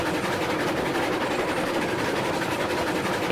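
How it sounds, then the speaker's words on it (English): A steam locomotive engine in the train game Railroads Online, a constant loud rumbling roar with a steady mechanical drone that runs on unbroken. "Forgot how noisy this engine is."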